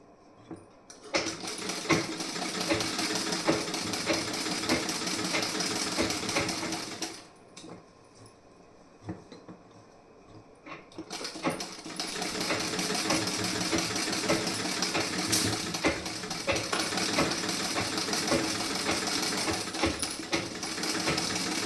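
A sewing machine stitches a garment seam in two long, loud continuous runs separated by a pause of several seconds, close and mechanical with no voices.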